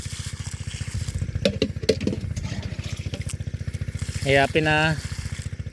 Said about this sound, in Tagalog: pinagana ko muna sa kanila yung motor ng pakyat ng tubig